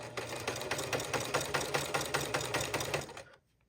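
Sewing machine top stitching fabric on a wrap dress, a close, steady run of fast rhythmic needle clatter over a motor hum that stops abruptly near the end.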